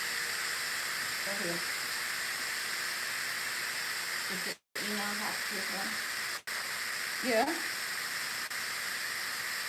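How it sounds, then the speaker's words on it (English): Steady, broad hiss of steam venting from a cooker while holiday-style Sunday dinner is prepared, continuous throughout with two brief dropouts, as people talk briefly over it in the background. "So I'm going to let the steam out now."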